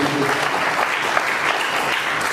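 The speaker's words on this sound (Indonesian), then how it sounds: "Beri tepuk tangan untuk kita ini." A church congregation at a Christmas service applauds, a steady wash of clapping throughout.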